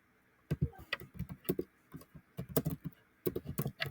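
Keys clack on a computer keyboard in quick irregular bursts of typing, close and fairly quiet, with short pauses between runs of keystrokes.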